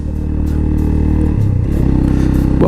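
A motorcycle carrying two riders and luggage climbs uphill with a steady, close, loud engine drone and some clattering, as the note shifts slightly partway through.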